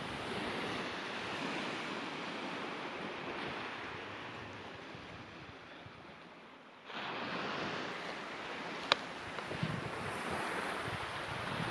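Waves washing onto a quiet beach on the west coast of Vancouver Island, a soft continuous surf roar with breezy wind rumble, dipping briefly before the next wave swells in.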